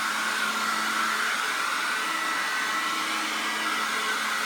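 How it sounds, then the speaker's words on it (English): A hair dryer blows steadily over wet acrylic paint on an abstract painting, a continuous close whooshing roar that holds at an even level with no talking. "I'm going to hair dry it"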